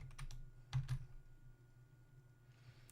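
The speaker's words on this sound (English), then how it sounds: "I'm going to go ahead and type lando Drupal module : install" A computer keyboard being typed on as a command is entered, a few quick soft key clicks in a short burst, quiet and close, with no talk over it.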